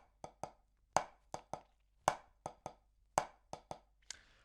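Sticks striking a drum practice pad in a right-hand split rudiment rhythm, about a dozen crisp, close taps grouped in a repeating pattern with accented strokes, alone in a quiet room.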